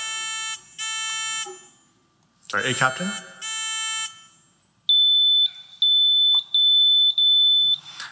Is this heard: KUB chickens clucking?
no